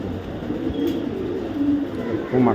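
Low, soft cooing of racing pigeons close by, a few throaty murmurs over a noisy background hum.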